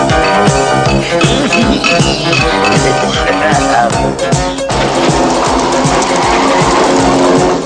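A car engine revs hard and tires squeal as it speeds off quickly, loud and close, mixed with music-like tones throughout.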